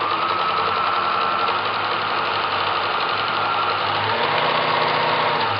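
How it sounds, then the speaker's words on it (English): A sewing machine stitching through paper with small stitches, a steady close mechanical whir that runs continuously without pause. "So let's put our foot pedal down, and I'm just going to sew."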